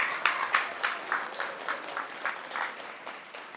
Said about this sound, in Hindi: जोरदार तालियां आप सबको।